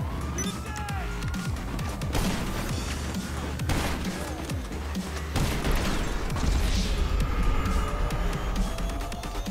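Sticky bomb blasts and chaotic gunfight noise in GTA Online, with booming crashes, rattling gunfire and vehicle rumble layered densely throughout, loud and close with several heavy impacts standing out.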